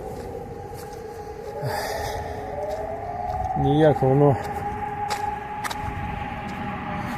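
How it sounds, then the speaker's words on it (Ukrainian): Air raid siren wailing over Kharkiv's Saltivka district on a wet October morning, a sustained, gently sweeping tone carrying across the whole stretch while someone talks nearby outdoors. "Знов лунає повітряна тривога."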